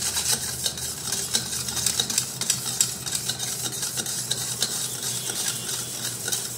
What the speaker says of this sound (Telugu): 1 టేబుల్ స్పూన్ ఆయిల్ వేసుకొని బాగా మిక్స్ చేసుకోవాలి.